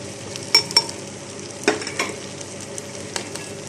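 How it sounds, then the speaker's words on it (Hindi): Mutton frying in ghee with onions and spices, giving a low sizzle under several sharp clinks and scrapes of a stirring spoon against the pot, close by with no talk. "गोश्त को भी मैंने अच्छे तरीके से भून लिया है घी में डाल के प्याज के साथ"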